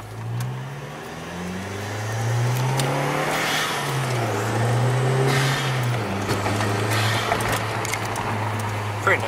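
Volkswagen Jetta MkIV engine with a muffler delete and Forge 008 diverter valve, revving up and down in loud droning sweeps, then holding a steady hum, close by with faint talk underneath.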